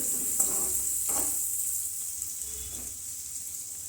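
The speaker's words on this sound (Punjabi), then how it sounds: "ਬਰੀਕ ਕੱਟੇ ਹੋਏ ਪਿਆਜ਼ਾਂ ਨੂੰ ਆਪਾਂ ਬਟਰ ਦੇ ਨਾਲ ਮਿਕਸ ਕਰ ਦੇਵਾਂਗੇ" Finely chopped onions being stirred into butter in a pan for pasta, with a soft, steady sizzle and a few scraping stirs against a constant bright hiss, fairly quiet and without talk.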